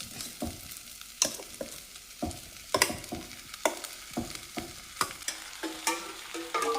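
Spice mixture with curry leaves hitting a hot clay pot, crackling and sizzling in sharp repeated bursts of spatter and stirring, close and clear with no talk.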